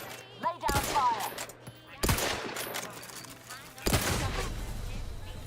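Gunfire in The Outer Worlds 2 video game crackles in three separate bursts of rapid shots, each a loud volley that fades into lingering noise, with a low steady hum beneath and a brief voice near the start.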